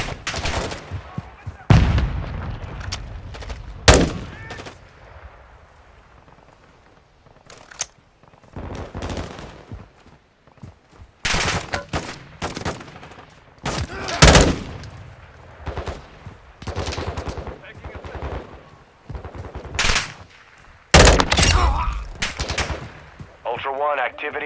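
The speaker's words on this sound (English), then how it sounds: "Taking effective fire!" Gunfire in Call of Duty: Modern Warfare II: loud bursts of automatic fire and sharp single shots come in repeated volleys over a long stretch, with brief lulls and faint radio-style voices in between.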